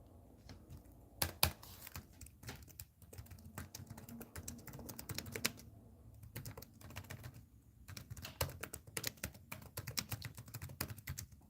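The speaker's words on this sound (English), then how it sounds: "If you hear me typing, by the way," Rapid clicking of typing on a computer keyboard, close and fairly quiet, coming in uneven bursts of keystrokes separated by brief pauses, with no talking.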